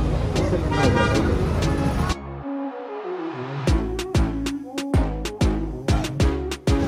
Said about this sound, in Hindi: ये देखिए ट्रैफिक कितना है यहाँ पे।